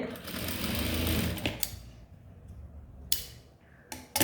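A sewing machine stitches a blouse in a fast, rattling run for about a second and a half, then stops, leaving quiet with a few short clicks and handling sounds.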